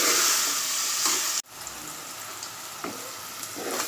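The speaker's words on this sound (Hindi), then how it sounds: "ये देखिए, मैं तेल में प्याज तल रही हूँ।" Onions frying in hot oil in a home kitchen, a steady close hiss and crackle that carries on without a break, cut by one sharp knock partway through and a few soft stirring scrapes.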